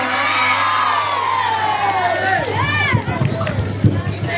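A crowd cheers and shouts at a Quran recitation contest, with children's voices and whoops rising over someone speaking through a PA system.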